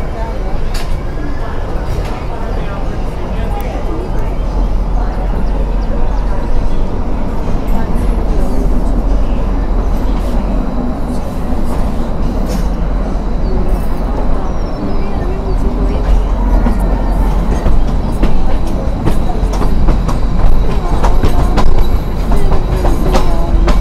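The Himalayan Queen train rolls toward Shimla with a loud, continuous rumble and rattle of carriages, steady wheel noise and faint clatter throughout, recorded from on board.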